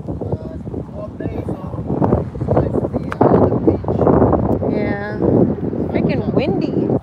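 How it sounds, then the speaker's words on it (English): Strong wind buffets the microphone with heavy low rumble at a beachside golf course, while people talk over it throughout. "Freaking windy."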